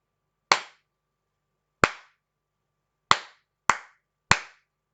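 Five sharp hand claps in an uneven rhythm, loud and close in a quiet room, spaced with longer and shorter gaps, the last three coming quicker together.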